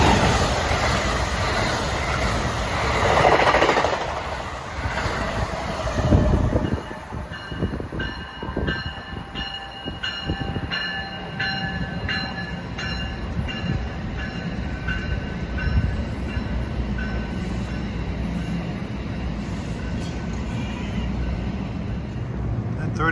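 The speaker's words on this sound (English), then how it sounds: "approaching is the first of 6 of those New Jersey Transit hotshots that go from New York to Trenton" A New Jersey Transit express train running non-stop between Newark and Princeton Junction rushes past close by, a steady roar of rolling wheels and rail clatter with rhythmic clicks, holding loud for the whole stretch.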